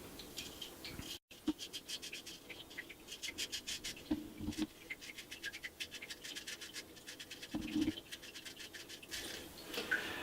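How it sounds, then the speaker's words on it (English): Straight razor shaving a beard upward from the bottom of the face, a close, dry rhythmic scraping of quick strokes, with a few faint taps. "I start here from the bottom, shaving up, but always using the same directions"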